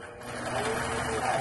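A quilting machine stitching across a quilt gives a steady close mechanical whir and hum, with a voice faintly present.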